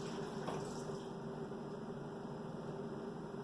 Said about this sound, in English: put in 2/3 cup of water